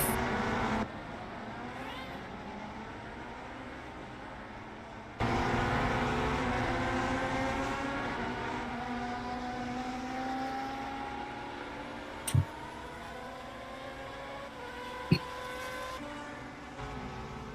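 Several race cars in a racing video game crawl out of pit road during qualifying, a steady layered engine drone with many overlapping harmonic tones holding on for the whole stretch, with a couple of brief sharp clicks near the end.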